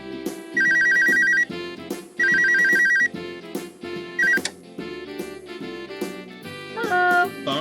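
A telephone rings in Dayshift at Freddy's 3 while calling the factory, with two long electronic ring bursts and a shorter third amid background game music.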